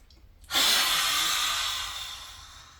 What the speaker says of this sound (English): One more time, take a deep breath in.